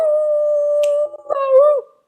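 A voice imitates a dog howling, a sustained wavering "aroo" that holds steady, then breaks and rises into a second bending howl, loud and close with no other sounds.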